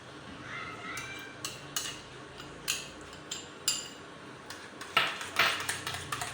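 A spoon clinks against a bowl in a steady rhythm as fresh cream, condensed milk, salt and chaat masala are stirred together for a sweet fruit chaat, close up and fairly quiet.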